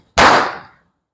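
A single firecracker bursts with a sharp, loud crack during Diwali celebrations in a village, its blast ringing out and decaying within about half a second, with no voices around it.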